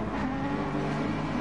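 BTCC-style race cars run side by side at Brands Hatch in GT Sport. Their engines drone loud and close in a steady, sustained roar, with no speech.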